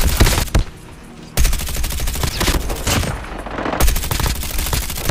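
Dense automatic gunfire from the COD Mobile game, loud and continuous, breaking off briefly twice before the rapid shots resume.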